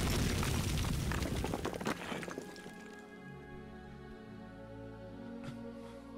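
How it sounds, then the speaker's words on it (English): A big, loud explosion in an Amnesia custom story game, a roaring blast with crashing debris for about two seconds, then a long rumbling decay into a low hum. "This'll make a big bang!"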